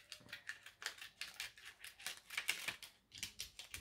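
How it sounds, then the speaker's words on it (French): A blade or die-cutting tool cutting a line of paper for a handmade envelope-style greeting card, a quick series of crisp rustling, snipping bursts in an even rhythm, close and fairly quiet with no talk. "ce que je vais faire, c'est que je vais couper la ligne"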